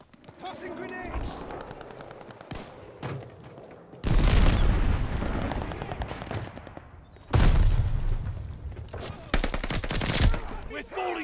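Heavy blasts and bursts of gunfire erupt in a Call of Duty: Vanguard multiplayer Patrol match, with loud booming grenade explosions at intervals over constant battle noise and shouted callouts.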